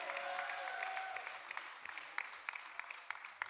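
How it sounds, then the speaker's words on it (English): An audience at a preparatory school graduation ceremony applauds an award winner, steady clapping that fades into scattered, distinct individual claps. "give her another round of applause"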